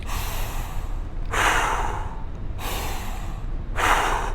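Two deep, loud breaths, each a sharp inhale followed by a pause, repeat close to the microphone in an even rhythm during air squats.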